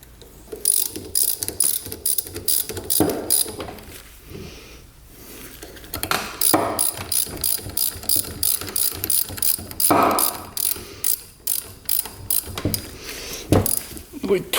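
A ratchet wrench clicks steadily while cam sprocket bolts are torqued down on a Honda 400ex quad engine, rapid close ratcheting in repeated bursts with brief pauses between strokes.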